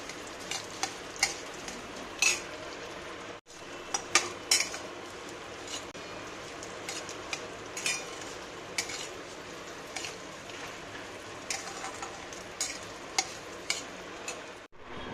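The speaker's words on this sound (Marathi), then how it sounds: "एक मंद आचेवरच थोडा भाजून घ्यायचो" Cucumber batter for Kakdiche Dhondas roasting slowly over a low flame, a soft steady sizzle with scattered light clicks of a utensil stirring against the pan, close and without talk.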